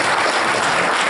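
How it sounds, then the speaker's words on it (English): Brief burst of dense, steady clapping from an audience at a Republican congressional candidate forum, many hands at close range. "Please give him a round of applause."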